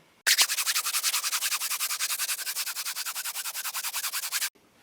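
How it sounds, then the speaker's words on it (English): A microfiber cloth buffs the plastic bodywork of a KTM 300 EXC motorcycle in quick, even back-and-forth strokes, a close, loud run of about thirty rhythmic rubbing swishes that starts and stops abruptly. "So I just kind of lightly rub the whole thing and buff it in."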